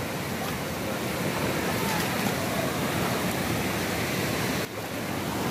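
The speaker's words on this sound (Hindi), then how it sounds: "ऐसी देखो बहुत तेज पानी है" Fast-flowing cold water rushes in a steady, broadband roar at a swimming spot, close and constant with a brief dip near the end and no voices over it.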